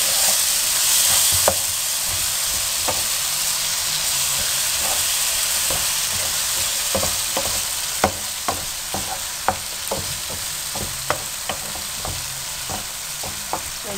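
Potatoes, okra and tomatoes frying in a pan for a spicy aloo bhindi salan, a loud, even hiss of oil that runs throughout, with a string of sharp spoon knocks and scrapes growing more frequent toward the end, and no talk.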